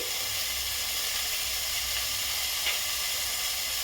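Spices and ingredients for khichdi fry in a pan with a steady, quiet sizzling hiss that holds evenly throughout, with no voices.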